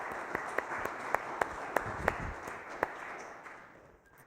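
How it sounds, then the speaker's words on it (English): Sparse applause from a small church congregation during a Lutheran service, with a few distinct claps standing out over soft crowd rustle before it fades out. "how about a round of applause for our prophets here?"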